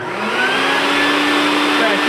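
A vacuum running steadily and loudly as part of a home-made gold ore crushing setup, a constant whine with a hum throughout and no pauses.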